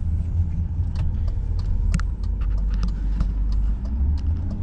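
A 2001 BMW 740iL long-wheelbase sedan with a V8 drives along, a constant low engine and road rumble heard from inside the cabin, with faint clicks and rattles on top and no talking.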